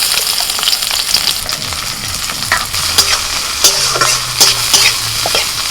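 Chopped garlic, green chilli and onion frying with salt in a pan, giving a constant loud sizzle broken by several clinking stirs of a spoon against the metal.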